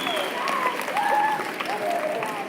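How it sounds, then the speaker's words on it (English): Students and staff at a school solar eclipse assembly applaud two teachers, a steady crowd clapping with some cheering and whistle-like tones over it, near and sustained. "So give them a big round of applause"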